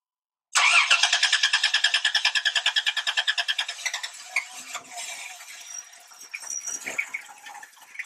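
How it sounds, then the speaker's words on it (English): Cranking of a 1993 Dodge Grand Caravan with the 3.3 liter engine, suffering a long crank time: a steady rapid chug of the starter lasting about four seconds, close and loud, before the engine catches and runs unevenly. "you would be able to hear what it sounds like when it has a long crank time"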